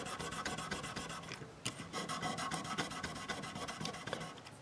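Guitar frets on a Washburn House of Blues are rubbed with 1000 grit sandpaper, a close, steady rasping scrub in quick rhythmic strokes that continues without a break.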